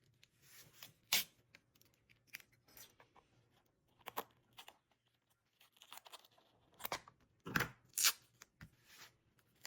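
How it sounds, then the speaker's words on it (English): Scissors snip through paper in irregular crisp bursts, several sharp cuts with quiet gaps between, close and fairly faint. "Not to mention, you'll obviously need scissors too."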